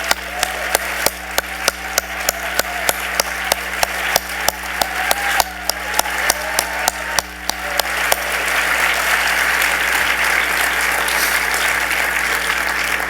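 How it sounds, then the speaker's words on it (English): An awards ceremony luncheon audience applauds, first as sharp, rhythmic claps standing out individually, then swelling into dense, loud, sustained applause filling the room. "Sandra Gibson and Susie Farr, please stand and accept our applause."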